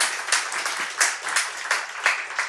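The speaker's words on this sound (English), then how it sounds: "Big applause." An audience applauds after a talk at an AI tech conference, a moderate room full of clapping with uneven swelling bursts, steady throughout and heard fairly close.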